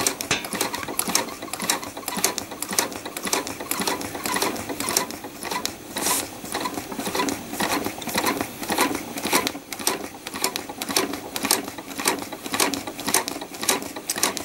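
Sewing machine running steadily, sewing a trapunto basting stitch with a fast rapid clatter of the needle and mechanism, close and continuous.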